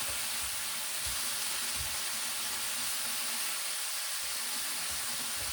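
Pork browning in a pan for pork in salsa verde, giving a steady, close sizzle with faint popping throughout, alone with no talk.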